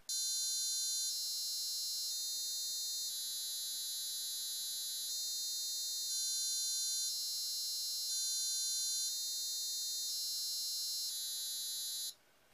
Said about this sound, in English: the buzzer plays the melody of a well-known tower clock in London every quarter of an hour